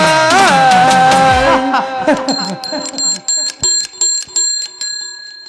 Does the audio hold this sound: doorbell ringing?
yes